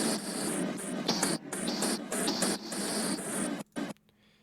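A noisy, gritty synthesized hit made in VCV Rack modular repeats in rapid stuttered bursts, choppy and bright, ending abruptly with short cut-off fragments.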